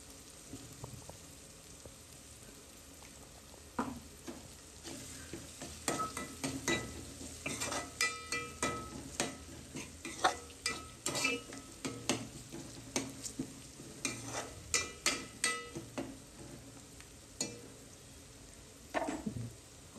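Cabbage with turmeric stirred in a frying pan, a spatula scraping and tapping in irregular bursts against the pan over a soft steady sizzle, close and alone without voices.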